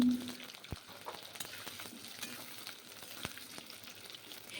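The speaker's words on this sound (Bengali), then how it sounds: "এখন আলুগুলো প্রথমে ভেজে নেব" Potatoes fry in hot mustard oil in a wok, a soft continuous sizzle and crackle with a few sharp spatters and ladle taps, fairly faint and steady throughout.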